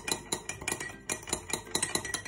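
A spoon clinks and scrapes rapidly against a bowl, mixing vinegar, salt, pepper and mild mustard into a sauce. The strokes are quick and rhythmic, close and faint.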